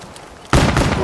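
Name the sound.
gunfire in video game Black Ops 3 zombies mode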